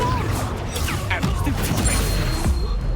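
A Confringo blasting curse impact in the Hogwarts Legacy video game, a loud crashing smash amid dense battle noise, with speech mixed in.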